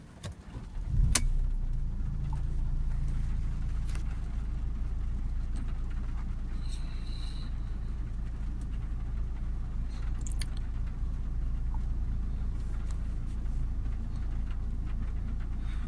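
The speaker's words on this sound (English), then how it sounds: "Test procedures, the combustion engine is running." A Mercedes E220 combustion engine, being checked for a differential pressure sensor fault, idles steadily with a low, even rumble after a brief knock at the start, continuing unchanged with no talk.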